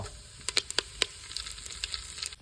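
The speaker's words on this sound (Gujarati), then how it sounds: "રાઈ, જીરું, તમાલપાત્રા, હિંગ, મીઠો લીમડો," Mustard seeds, cumin, bay leaf, asafoetida and curry leaves spit in hot oil, a quick run of bright crackling pops over a soft continuous sizzle, close up with no voices.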